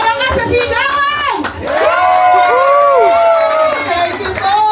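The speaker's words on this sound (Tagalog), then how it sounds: "Isang malakas sa sigawan!" A crowd cheering and shouting loudly for a birthday at a lively gathering, with many voices yelling together, near and sustained, mixed with people talking.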